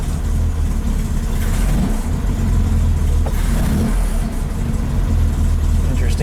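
A Corvair engine with its air cleaner removed runs loud and close with a deep, rough rumble that swells and eases as it revs, no talking over it.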